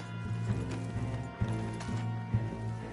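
Horse hooves in Red Dead Redemption 2 on PS5 clop in a loose, uneven rhythm of a few separate strikes, heard under a steady bed of game music and ambience.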